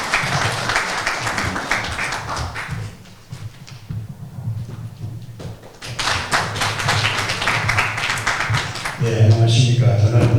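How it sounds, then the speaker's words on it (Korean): Audience applause at a Korean-American school opening ceremony and thanksgiving service in Los Angeles: dense clapping from a crowd rising, fading to a lull, then resuming strongly, with someone speaking over the final part. "큰 박수로 부탁드리겠습니다"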